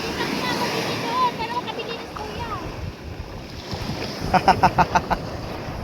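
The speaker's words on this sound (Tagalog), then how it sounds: "Lakas ko yung alon guys, yung lakas ng alon." Strong sea waves wash and crash at a fish port in Tanza, Cavite, as a broad rushing surf under nearby talk, with a burst of rhythmic splashing knocks toward the end.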